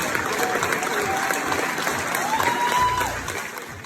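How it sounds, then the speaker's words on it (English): Cheers and applause as American firefighters arrive in Australia, a loud, continuous crowd clapping with scattered voices, easing off slightly at the end. "American firefighters were greeted with cheers and applause as they arrived in Australia"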